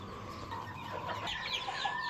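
Silver Sebright hen with newly hatching chicks, soft clucking and faint peeping heard close by at low volume, with no talking.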